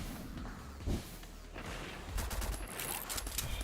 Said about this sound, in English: That was a flurry of bullets.